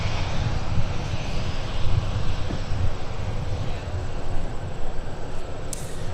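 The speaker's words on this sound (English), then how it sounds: "that engine noise" Jet airliner engines roaring steadily at Minneapolis–Saint Paul airport, a loud continuous low rumble with broadband hiss, no talk over it.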